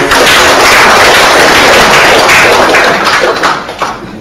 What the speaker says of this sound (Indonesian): kita beri aplaus